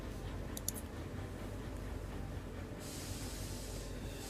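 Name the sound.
trains passing through each other in a train video game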